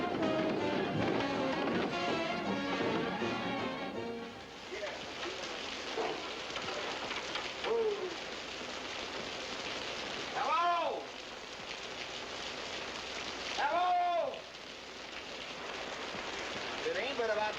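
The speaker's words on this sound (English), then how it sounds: "It's raining." Steady rain falls heavily in a hiss across the whole stretch, with occasional chirps and brief voices rising above the downpour.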